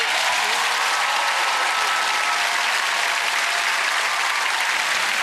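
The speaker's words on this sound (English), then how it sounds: "Massive round of applause for Jim, everybody!" Loud, sustained applause from a large game show studio audience, a dense steady clatter of clapping that fills the whole stretch without letting up.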